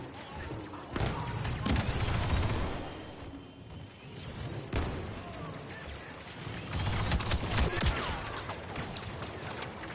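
A Gatling gun firing in Star Wars Battlefront 2 multiplayer, rattling bursts of rapid fire that come and go with game noise, moderately loud, with speech partly over it.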